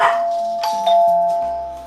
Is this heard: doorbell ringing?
yes